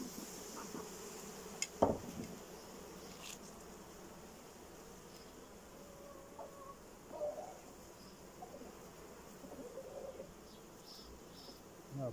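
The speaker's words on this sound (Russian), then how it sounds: "Пчелы тут много, много пчелы" Honey bees swarming and buzzing over an opened hive, a faint continuous hum with a few brief knocks and clinks.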